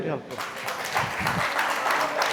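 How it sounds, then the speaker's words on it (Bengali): Seminar attendees at a health and wellness talk clap for themselves, a moderate scattered patter of hands mixed with overlapping voices throughout. "আপনারা একটু নিজেদের জন্য হাততালি দেন"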